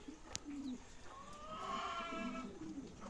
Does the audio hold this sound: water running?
no